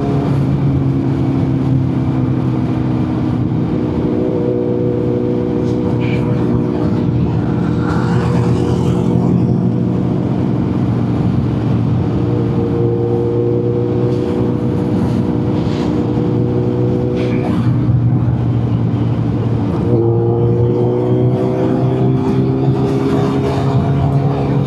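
A car drives at high speed with a loud, steady engine drone and wind roar that holds throughout, pitch climbing and dropping with gear changes around a third of the way in and again near the end.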